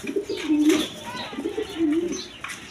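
A pair of shirting pigeons coo close by in two soft, rolling phrases, with faint chirps and light background noise around them.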